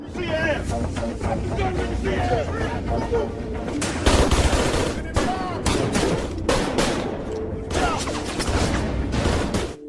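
Rapid bursts of automatic gunfire from a crime action film's police shootout with robbers, loud and dense, with sharp shots stacked in quick rhythm and faint shouting voices mixed underneath.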